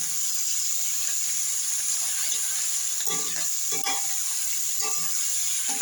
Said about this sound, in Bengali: এই সবজিগুলোকে ভালো করে ভাজতে হবে দেখতে পাচ্ছেন পুঁই মুসুরি ওলকপি কাঁচা টমেটো সিম আর পেঁয়াজ কালি এটা আগে ভেজে নিচ্ছি